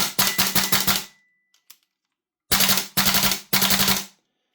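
Tokyo Marui SLR B15 airsoft rifle, built on a receiver kit with a heavy stainless bolt and fed from MWS magazines, fires two rapid bursts of sharp mechanical clacks, about six shots, then three, separated by a short pause with faint clicks.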